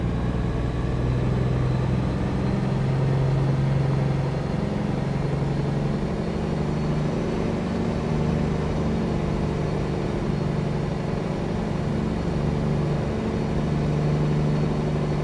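A Cummins ISX truck engine rated around 500 horsepower in American Truck Simulator, on a Peterbilt 389 glider hauling cattle, drones at a steady low idle, constant and loud with no break.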